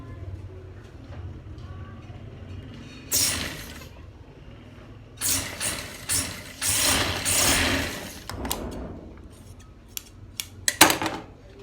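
Scissors cutting cloth for a sleeve cuff at a tailor's table, several bursts of crisp snipping and fabric rustle, the busiest run in the middle, with quiet background room noise between cuts.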